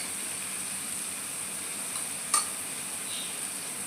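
Spices and Kashmiri chili sizzle in hot oil over a lowered flame, a faint steady frying hiss with one sharp clink midway and no speech.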